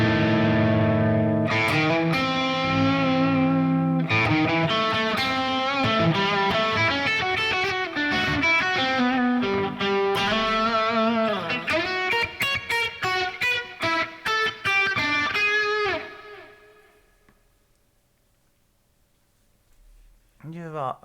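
Electric guitar lead run through effects and distortion, played with constant string muting: a busy stream of sharp, clipped notes and short bursts for about fifteen seconds, then a fade to near silence before one last brief strum.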